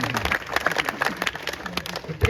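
An audience claps at a Holi stage show, the applause fairly thin and uneven, with loud voices talking over it throughout.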